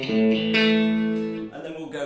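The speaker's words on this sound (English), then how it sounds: "Bright clean, just a little bit sharper." Electric guitar through a Blackstar practice amp on its bright clean channel, a clear sustained chord ringing with sharp treble, a second strum near the middle, fairly close and alone.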